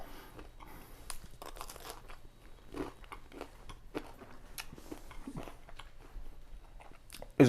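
Someone bites and chews crunchy sourdough baguette made into garlic bread, giving close, crisp crackling crunches in an uneven rhythm, with no talking.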